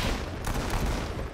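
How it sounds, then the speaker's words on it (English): Rapid gunfire in the mobile shooter game Modern Combat 5, a dense burst of repeated shots close and loud, filling the moment without talk. "They're shooting from somewhere."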